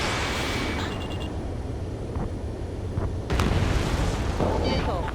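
Missile explosions in the combat flight game Ace Combat 7: a steady roaring rumble with a sharp burst around the middle and a heavier blast toward the end, under radio-style chatter.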